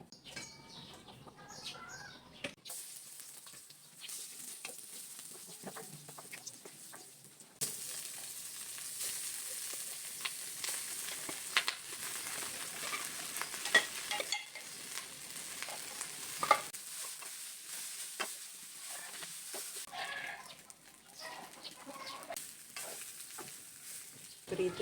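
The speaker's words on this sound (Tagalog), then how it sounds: "Kaya magsasangag tayo ng kanin. Ayan, maglagay muna tayo ng mantika." Leftover rice frying in oil for sinangag sizzles softly while a utensil stirs and scrapes in uneven bursts. The sound is close and quiet, with faint birds chirping in the background.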